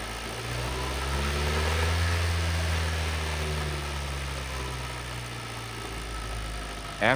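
Car engine revved up to about 2,000–3,000 RPM while the battery and alternator are tested, a steady mid-pitched engine hum that climbs in pitch, holds, then eases back toward idle, with no talking.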